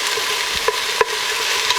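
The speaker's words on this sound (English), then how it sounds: "I'm caramelizing the onions" Onions caramelizing in a pan over medium-low heat: a steady close sizzle and hiss with a couple of soft scraping stirs, no talking.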